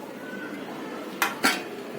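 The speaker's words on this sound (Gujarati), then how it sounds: "ફરીથી હલાવશું પાછા" Chillies and garlic are stirred in a cooking pan over a low frying hiss, with two distinct metallic clinks of the spoon against the pan near the end.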